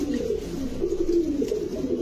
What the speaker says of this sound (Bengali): ওরে অনেক শক্তিশালী একটা কবুতর।